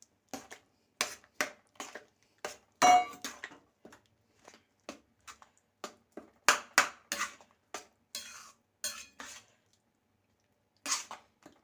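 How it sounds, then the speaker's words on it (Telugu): A spoon scrapes and knocks against a pot while semolina is stirred into boiling water for Udupi-style tomato bath, a string of sharp, irregular clinks and scrapes separated by quiet gaps, with no voices. "ఉండలు లేకుండా కలుపుకోండి ఇలా ఉడుకుతోంది కదండి"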